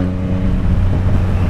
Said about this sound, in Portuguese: A moto tá indo de boa,